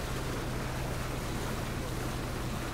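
A boat in the PUBG video game cruises with a steady engine drone and constant rushing water and wind noise, loud and unbroken throughout with no voices.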